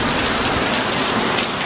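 Tropical storm rain in Malaysia pours down loud and close, a dense unbroken hiss of heavy drops with no voices.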